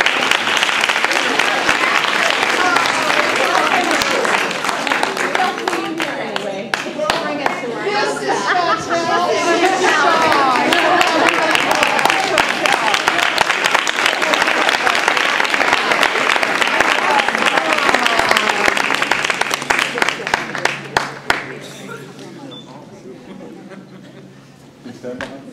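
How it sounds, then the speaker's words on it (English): A crowd at a charity cycling ceremony for a breast cancer ride claps long and loudly, a thick sustained roar of hands mixed with chatter and some laughter, tapering off near the end. "Big round of applause for Chantel."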